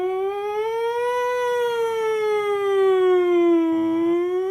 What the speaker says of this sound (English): The dogs will start howling at the sirens